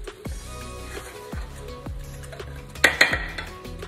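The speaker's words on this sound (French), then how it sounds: "Je mélange bien, il faut bien mélanger." Ingredients are mixed in a pot or bowl, with a few distinct utensil knocks and clinks against the vessel and a louder cluster of scraping strikes near the end, close and moderately loud.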